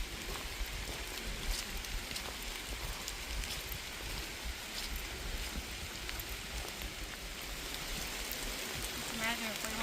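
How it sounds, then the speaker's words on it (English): Rain falls steadily on a forest canopy on a backcountry camping trail in the woods, a dense, continuous patter of drops all around with no talking. "Imagine if we weren't under this canopy, how bad the rain would be."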